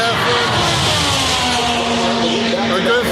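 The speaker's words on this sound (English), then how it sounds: "you can use these sounds on your racetrack, David, and just record them and play them on your track" Race car engines at Indianapolis Motor Speedway drone loudly and continuously, a sustained roar with shifting pitch from cars passing on the oval, blended with dense crowd and track ambience throughout.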